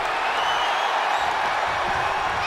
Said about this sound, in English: This crowd are solidly behind Jade Cargill. Listen to this crowd.